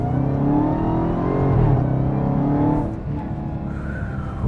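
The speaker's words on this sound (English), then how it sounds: "the supercharger noise is very satisfying as well" Supercharged Dodge Charger Hellcat Redeye accelerating hard, a loud sustained engine roar with steady harmonic whine that holds strong then drops slightly as it eases off, no voices.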